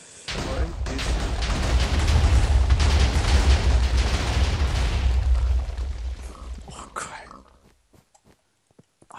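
Firecracker blasts in a Minecraft-style video game merge into a loud, rumbling burst of explosions lasting several seconds, then fade into scattered faint pops and clicks.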